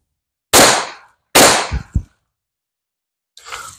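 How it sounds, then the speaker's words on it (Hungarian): Two sharp, loud reports from a Taurus TX22 compact pistol firing Federal 22 LR self-defense rounds, followed by a fainter third crack, each close and abrupt with silence between them. "A Federál önvédelmi 22 LR lőszere pisztolyból kilőve."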